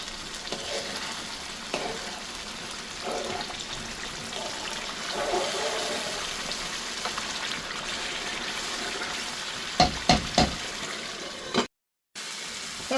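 Butter chicken sauce with plenty of moisture simmers and sizzles steadily in a pan, with occasional soft scrapes and stirs and a few sharper clinks near the end.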